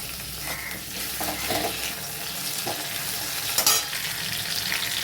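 Tomato and spices frying in a wok for a Bengali sesame-poppy fish curry, with a steady oily sizzle broken by several scraping stirring strokes, close and moderately loud, with no talking.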